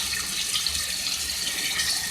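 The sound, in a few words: pouring water into pan of potatoes and cauliflower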